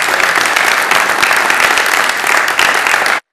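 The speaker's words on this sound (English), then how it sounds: "Let's give them a big round of applause." Audience at a youth-in-government city council event gives a loud, dense round of applause, steady for about three seconds before cutting off abruptly.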